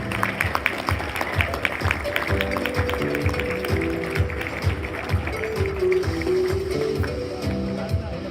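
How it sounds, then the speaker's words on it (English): Wedding reception guests applaud the bride's father with steady, sustained clapping that holds for several seconds over background music and room chatter. "please give your bride's father a nice big round of applause"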